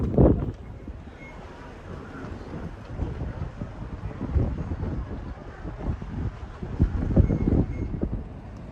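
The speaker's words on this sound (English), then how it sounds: "welcome to a very windy Liverpool" Wind in Liverpool rumbles steadily against the microphone, with a few louder gusts swelling toward the end.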